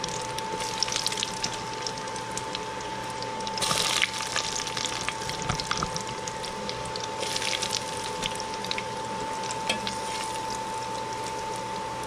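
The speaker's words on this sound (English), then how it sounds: "we're going to go ahead and start deep frying our mozzarella sticks" Mozzarella sticks deep frying in hot oil on a Copper Chef cooktop give a steady, even sizzle and bubbling hiss, close and continuous throughout, with a couple of brief louder surges and no talking.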